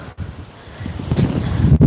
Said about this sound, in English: And it's windy here today.